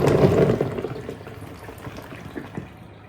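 Soaking water drains off a container of green pitted olives, a loud, close pour and splash at first that gradually thins to a trickle with scattered drips.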